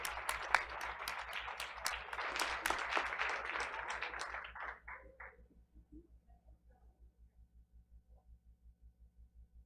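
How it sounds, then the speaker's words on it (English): Audience applause at an elementary school honors ceremony during a Board of Education meeting, dense clapping for about four seconds that thins out and fades, leaving a steady low hum. "First, let's please give a big round of applause to Principal Maria Martinez."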